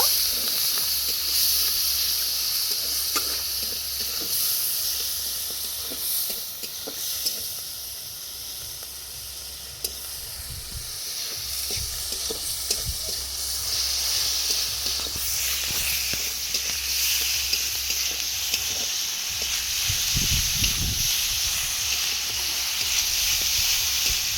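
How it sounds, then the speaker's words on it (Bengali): Ginger, garlic and onion paste keeps frying in a wok with a soft, continuous hiss and sizzle, punctuated by occasional spatula scrapes and taps, moderately close and without voices. "এটা একটু ভাজা ভাজা করে নেব।"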